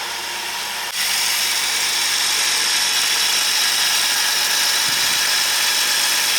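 A rebuilt Ford 300 six-cylinder engine, freshly fitted to a 1954 International R100 truck, idles steadily as it warms up, a loud, even, continuous running noise with no talking.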